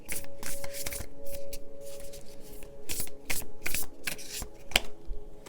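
Dragon oracle cards are shuffled by hand, giving a quick, continuous papery riffling and flicking close up, with irregular bursts and soft slaps and no talking.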